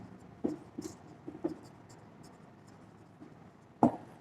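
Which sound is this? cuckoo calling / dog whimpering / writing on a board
writing on a board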